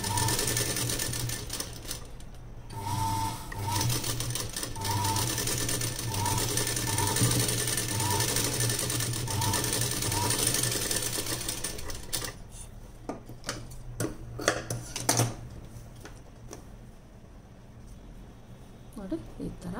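A sewing machine stitching piping onto fabric, with a steady close mechanical whir and rapid needle chatter that runs almost continuously, then breaks into short bursts and clicks near the end.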